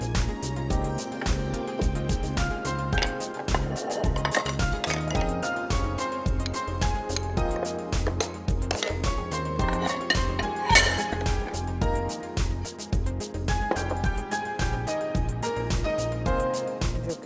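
Cooked rice for cashew chicken is pressed into a bowl and turned out onto a dish, giving a run of close clinks and taps of utensils against dishes, with a steady rhythmic knocking all the way through.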